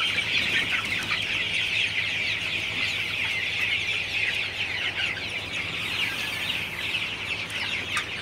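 Flock of Sonali super hybrid chickens, about 42 days old, clucking in a hot poultry shed: a busy, continuous mass of overlapping clucks and calls filling the space at steady volume, without any talking.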